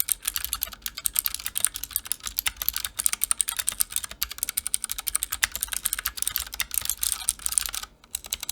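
Fast, steady typing on a Ducky Mecha Mini keyboard with Cherry MX Blue switches, a dense run of sharp clicky keystrokes heard up close, pausing briefly near the end.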